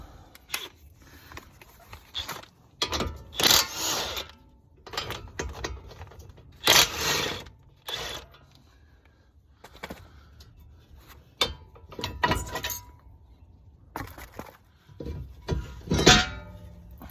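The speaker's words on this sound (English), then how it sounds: "Alright, let me take the rotor off." Brake rotor being removed from an Infiniti M37: scattered metallic clanks, knocks and scrapes come in irregular bursts with quiet gaps between them.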